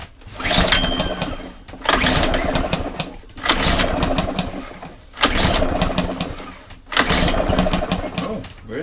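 A free curbside lawn mower's engine bursts into a rough, loud run five times in a row, each burst lasting over a second before cutting out, with brief gaps of near silence between.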